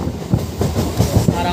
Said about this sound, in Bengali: তো আমাদের ট্রেন আকাইপুর হল্ট থেকে ছেড়ে দিল।